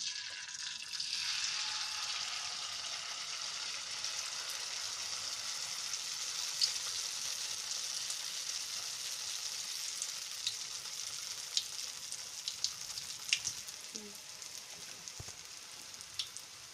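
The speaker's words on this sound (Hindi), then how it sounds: "इसी तरीके से सारे मालपुआ फ्राई करेंगे।" Semolina malpua frying in hot oil: a continuous soft, bright crackling sizzle, close and moderately quiet, with scattered small pops and a brief clink near the end.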